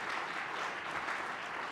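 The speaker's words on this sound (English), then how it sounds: "Let's give another round of applause to Commissioner Rivera, Barbie, and everybody that helped make this kickoff amazing." Steady audience applause at a Berks County 275th anniversary kickoff event at the Miller Center, dense and even clapping from a crowd, continuous throughout with no speech.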